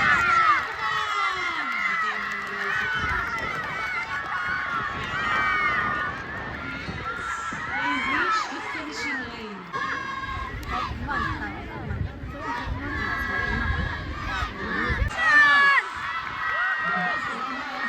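Crowd at an annual inter-school sports meet cheers and shouts with children's voices in a steady hubbub, rising in bursts, while someone nearby calls out encouragement over the noise.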